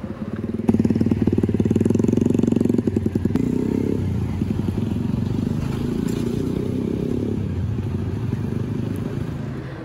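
Traffic at a road U-turn near a roundabout in Batam, with motorcycles and cars turning: a steady, loud rumble of engines and passing vehicles with some clatter, a louder motorcycle burst early on, then continuous engine noise.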